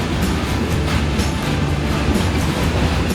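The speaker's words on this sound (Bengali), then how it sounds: "আমাদের ট্রেন এইমাত্র এসে পৌঁছালো হচ্ছে কুমারডুবিতে" Loud, close interior rumble of the Black Diamond Express running on the Bardhaman to Kumardubi line, a dense continuous roar with rhythmic rail clatter throughout.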